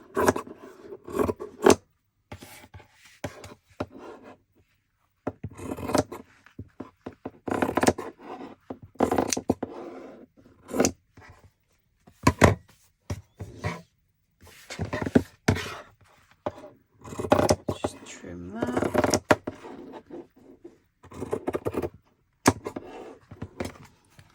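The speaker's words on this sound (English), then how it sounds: "I'm just going to trim this just to make life easier." Scissors trimming paper for a handmade junk journal, giving irregular bursts of crisp snipping and rasping over about twenty-four seconds, close up and moderately loud, with no speech.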